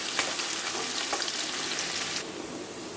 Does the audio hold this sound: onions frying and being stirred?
yes